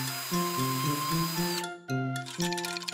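A power drill bores a hole through a cardboard wheel set over a thick wooden board, a close, loud whine with steady harmonic tones that briefly stop and then start again, with no voices.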